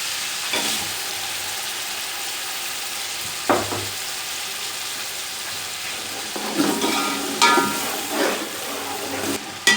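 Garlic-ginger paste and chopped tomatoes hitting hot oil for matar pulao, a steady sizzling hiss with a few sharper bursts and clatters as the ingredients go in and are stirred.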